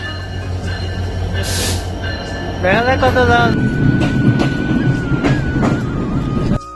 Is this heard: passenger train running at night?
yes